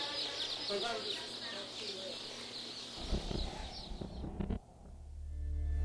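Dense high chirping from crowds of chicks fills a hatchery sorting line as workers handle the birds. A low mechanical rumble and heavy thuds take over partway through, followed by a swelling hum.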